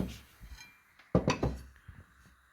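The metal cover lid of a Houli 12V 220V 4000 W pure sine inverter is handled, giving a few close, sharp metallic clinks and knocks with quiet gaps between them.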